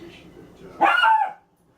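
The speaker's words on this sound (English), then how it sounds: "my dog is barking in the background if you can hear him" A dog barks indoors in the background, a short burst of barks and yips after a quiet stretch, with faint room sound around it.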